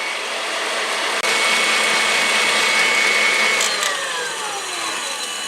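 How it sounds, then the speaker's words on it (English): An electric mixer runs continuously on high speed, whisking egg whites to stiff peaks for a chocolate soufflé, a loud steady whine with a faint beater rattle and no voices. "I'm going to just whisk this until it's stiff peaks on high speed"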